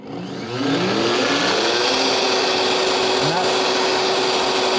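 A Vitamix E320 blender whirs loudly and ramps from its lowest to its highest speed, its motor whine climbing in pitch after a brief quiet start and then holding a harsh, roaring drone.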